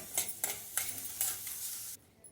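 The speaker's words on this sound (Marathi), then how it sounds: "एक चमचा तूप घालते जास्त नाही घालायचं थोडं परतून घेते दोन तीन मिनिट" Rice roasting lightly in a spoonful of ghee in a pan: a soft continuous sizzle broken by four or five rhythmic scraping strokes of a spoon, close up, then quieting at the end.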